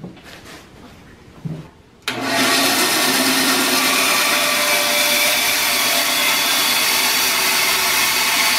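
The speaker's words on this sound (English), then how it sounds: "chop this thing up about the length that we need, and then we're going to cut it into a square" A power tool bites into knife handle material being cut to length, rising abruptly after a quieter start into a loud, steady, sustained whine and rasp that continues to the end, close up with no talking.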